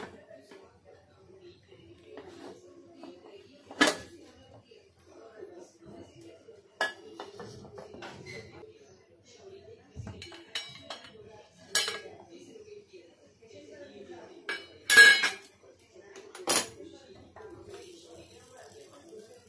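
A pressure cooker holding tandoori chicken is opened, with metal pots and utensils giving scattered sharp clinks and clanks over a quiet background.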